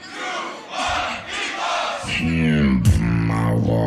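A concert crowd shouts loudly in unison, a dense roar of many voices answering a call, with a rising shout near the end over a steady crowd din.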